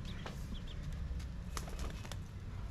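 Pigeons give faint, soft coos with a few brief wing flaps, heard at a distance over low background rumble and with no talking.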